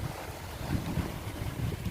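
Steady wind rushing at sea over a low churn of waves against a boat, with gusting noise buffeting the microphone throughout and no voices.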